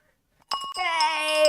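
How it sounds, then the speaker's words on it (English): A market-open bell rung at the start of a live stock trading session, a bright ringing tone with steady overtones that begins after a brief quiet moment and sustains clearly to the end. "The bell, get the bell, Ronnie."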